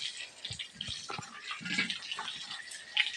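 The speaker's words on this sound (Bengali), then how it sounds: "হাতে একটু জল লাগিয়ে নিলাম" Water splashing and dripping on hands while making puffed rice balls, soft wet patters and brief trickles close by, with no talking.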